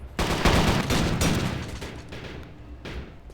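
Dense, loud bursts of automatic and rapid gunfire in the video game Warzone during a competitive match, overlapping shots rolling continuously with no talk.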